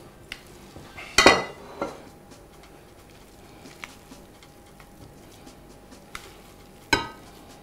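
A spoon stirring fava beans with cumin in a metal pot, giving a couple of sharp clinks and scrapes against the pot wall spaced across a quiet kitchen, with light patter between.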